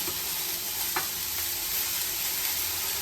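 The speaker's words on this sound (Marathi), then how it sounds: "आता मी त्याच्यामध्ये हे सर्व घालून घेते टॅमॅटो" Tomatoes go into a frying pan of sizzling onions for a paneer curry, giving a dense, steady sizzle up close with a faint stir or clink partway through.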